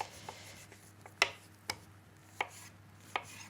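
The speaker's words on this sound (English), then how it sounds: "Now for the bicky dough, we're going to cut this into 6." A knife cuts through soft biscuit dough on a board, giving several separate dull taps spaced about half a second to a second apart, close and fairly quiet over a low steady hum.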